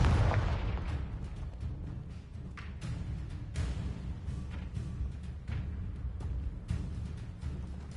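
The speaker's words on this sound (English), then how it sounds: "Confringo!" A Confringo blasting spell in the Hogwarts video game sets off a heavy explosion with an initial burst, followed by a long rumbling boom and scattered crackling debris, loud and close.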